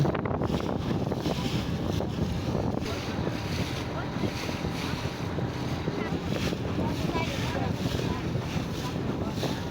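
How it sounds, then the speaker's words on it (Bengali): A fishing boat hauling in its net on the Charkhali river near Pirojpur gives a steady, dense rumble of motor and water, with wind buffeting the microphone throughout and no clear breaks. "একজন জেলের নৌকা এখানে জাল উঠাচ্ছে"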